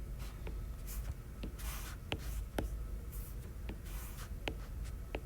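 Pen or pencil scratching across paper in short, quiet strokes and taps, close by and steady, with no voices over it.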